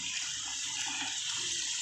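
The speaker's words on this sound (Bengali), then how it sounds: "এটা আমি ঠান্ডা জল দিয়ে দেবো" Cold water pours steadily into a pot of partly cooked shahi egg biryani, a continuous close splashing gush lasting a couple of seconds with no talk.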